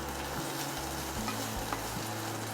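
Raw mango pieces stirred and sautéed in a pan for a sweet mango pachadi, a soft steady sizzle with scraping strokes recurring about every half second, close and fairly quiet, no voices.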